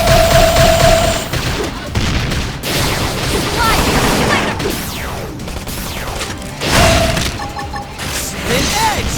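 Rapid bursts of Beam barrage fire in Xenoblade Chronicles X combat, loud dense volleys of energy shots, crashes and mechanical clatter running in waves, with brief shouted call-outs.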